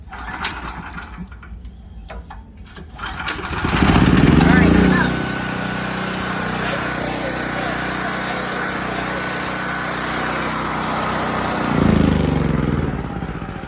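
A portable home-backup generator's small engine is pulled over and catches, then runs at a steady buzzing drone with two louder surges, close by and alone with no talk.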